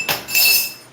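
A cup handled on a kitchen counter, producing two quick, close clinks of glass or ceramic, the second ringing a little longer before fading.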